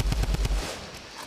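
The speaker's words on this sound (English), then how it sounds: "A lot of AR ammo being used." Assault rifle fire in Fortnite during a tournament match, with a quick burst of several rapid shots followed by a fading tail.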